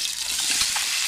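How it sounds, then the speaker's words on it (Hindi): Chicken pieces fry in hot oil in a karahi with a loud, dense, crackling sizzle. The sound holds steady and close throughout, with no voices. "अब मैं इसको इतना फ्राई करूँगी कि चिकन का कलर बदल जाए।"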